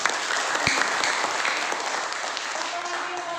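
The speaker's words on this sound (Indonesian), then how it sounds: "tepuk tangan dulu buat." Students in a classroom clap together in a brief, lively burst that fades gradually toward the end.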